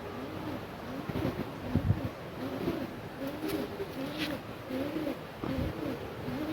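Pet pigeons coo in soft, repeated low rolling calls, several overlapping phrases at steady intervals, close by over a light outdoor background hiss.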